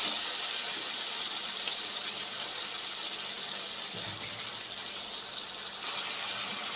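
A little water hits hot spice paste frying in a pan for a village-style raw jackfruit and prawn curry, giving a steady, even sizzling hiss that runs unbroken and fairly loud.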